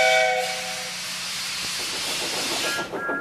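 Thomas the Tank Engine's steam whistle blows in a short burst over a loud, continuous hiss of escaping steam, followed by a second brief whistle toot near the end.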